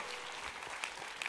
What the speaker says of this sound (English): Let's give a huge round of applause to Winnie and to O.